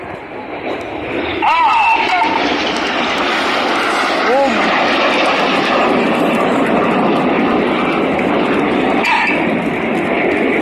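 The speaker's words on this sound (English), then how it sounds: "These 4 jets now descend to just 100 feet. Their closing speed is now 800 miles an hour." Four Red Arrows jets descending to about 100 feet for a low pass at the East Fortune airshow, a loud sustained roar filling the scene while a commentator talks over it.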